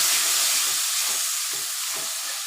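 Gobindobhog rice being stir-fried with chilli powder and spices in a hot pan, giving a steady, close sizzle and hiss throughout with faint stirring scrapes and no talking.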